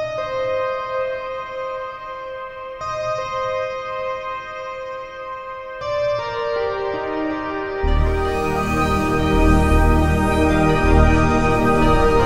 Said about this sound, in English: And I wanted then just to end the whole track with a lovely synth sound.